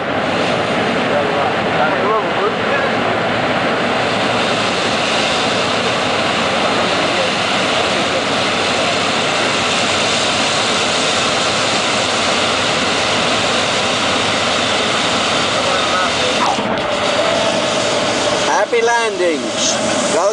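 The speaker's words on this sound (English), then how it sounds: "when the shadow and the plane merge, we'll actually be touching down" A plane touches down on landing at Amboseli National Park, with a loud, constant engine and cabin roar for the whole stretch and a brief rough disturbance near the end.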